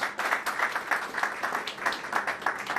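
Guests clapping at a civil wedding ceremony led by a mayor, a lively, fairly close round of applause with distinct rhythmic claps, continuous for the whole stretch.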